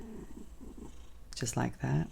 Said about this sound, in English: I'm not sure if you can hear my cat purring